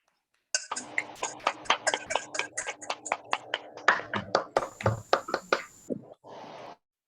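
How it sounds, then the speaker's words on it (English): Scattered, uneven claps from a small group at a Bangalore Toastmasters club meeting, a couple of dozen sharp hand strikes over several seconds rather than a dense ovation, with a brief steadier patch near the end. "let us give a thunderous round of applause to Shilpa Mudbi"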